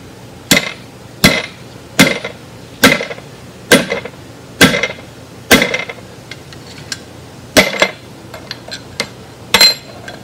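A hammer taps a metal mandrel into a fishing hook, roughly ten sharp, ringing strikes at an even, unhurried pace with short pauses between them, close and loud with no talking.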